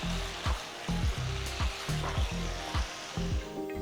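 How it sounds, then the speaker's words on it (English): Chopped tomatoes stirred into chicken for a chicken korma sizzle steadily in a hot pan, with a spoon scraping in regular strokes about every half second over a constant frying hiss and no talk. "Now add 2 medium-sized tomatoes chopped and mix them gently with the chicken."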